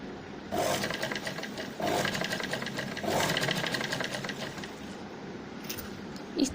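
Sewing machine running basting stitches on a suit, three long whirring bursts of stitching separated by brief pauses, close and moderately loud.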